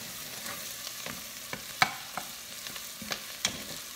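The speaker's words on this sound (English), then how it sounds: "So let me just get this stirred up" Onions caramelizing in a frying pan, a steady soft sizzle with a spoon or spatula stirring and scraping in irregular light taps, close and moderate in level, no voices.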